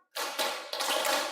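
A classroom of students clapping together in a concentration clapping exercise, a dense burst of many hands striking at once, loud and close, in two or three rapid waves with no talk.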